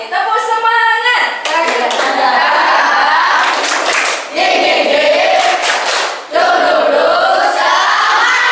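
Children in a classroom perform a rhythmic spirit clap chant, with loud group voices chanting and claps in patterned bursts, pausing briefly between phrases.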